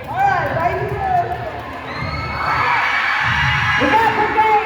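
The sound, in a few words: pep rally crowd cheering for the golf team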